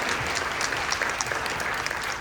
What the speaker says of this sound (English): I'm going to ask you to give me a big round of applause for Renée King-Sonnen.